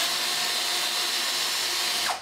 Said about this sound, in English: To use the universal plug, you simply need to drill the hole of the correct diameter.